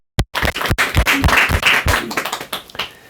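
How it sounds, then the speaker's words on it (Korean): An audience at a Korean talk-show lecture on balancing strength and gentleness gives a loud, close round of applause, dense overlapping clapping that starts abruptly and fades slightly toward the end. "큰 박수 부탁드립니다."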